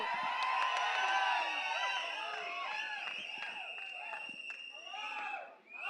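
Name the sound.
loud applause at film launch event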